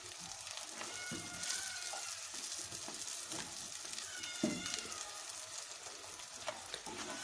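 Beef brain and two eggs frying in a pan give a quiet, steady sizzle and crackle, broken by a few scrapes and clinks of stirring, with no talking.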